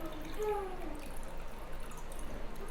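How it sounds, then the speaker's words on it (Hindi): Water poured into a container holding a burning candle, a soft continuous trickle and splash with a faint ringing tone near the start, steady and fairly quiet throughout. "और अब हमें इसमें डालना है दूसरे साइड से पानी।"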